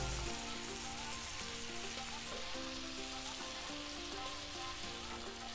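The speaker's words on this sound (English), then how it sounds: "I do want to baste with this butter that it is sitting in here, and to continue to just baste it right here." A ribeye steak basted in butter sizzles on a flat top griddle: a steady, close, hissing fry that runs without pause under background music, with no one talking.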